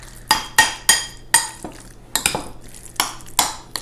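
A carrot and zucchini stuffing mixture with cheese is stirred in a bowl, producing about nine sharp, close utensil clinks and scrapes in an uneven rhythm, with no voices.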